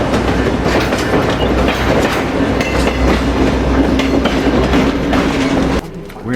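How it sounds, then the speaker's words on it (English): A Grand Canyon Railway train pulls out of Williams, Arizona, its loud, steady rumble and rhythmic clickety-clack of wheels on rail running throughout before easing off near the end. "We're departing from Williams, Arizona on the Grand Canyon Railway."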